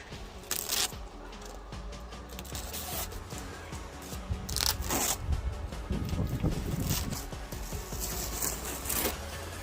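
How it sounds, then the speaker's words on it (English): Tape is peeled off a rear spoiler on a BMW E90 318d, giving a close, steady tearing and rustling texture with a few sharper rips, over a low background rumble. "Just gonna take a tape off."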